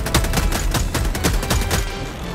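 Rapid bursts of gunfire from the video game Helldivers 2, a dense, loud fusillade of repeated shots firing steadily without a break across the clip.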